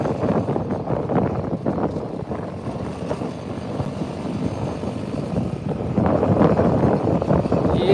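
Steady, gusty wind roars across the microphone during an outdoor ride on a RZR 200 in mountain weather, with a low engine drone underneath, growing louder near the end.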